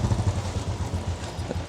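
Motorcycles setting off on a mountain road, close engine rumble with a rapid low throb and rattle throughout the short stretch, no talk.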